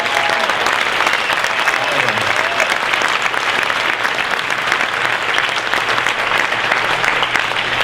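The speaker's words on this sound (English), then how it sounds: "Another round of applause for these people." A large convention audience at the D23 Expo 2011 Disney theme park voices presentation claps steadily in dense, sustained applause that fills the hall for the whole stretch without pause.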